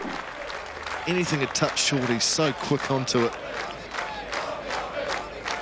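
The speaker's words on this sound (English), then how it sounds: "there's plenty of applause all around the ground" A cricket crowd at an England versus New Zealand Test match breaks into applause and cheering, a broad wash of clapping under a commentator's steady talk that swells and holds across the ground.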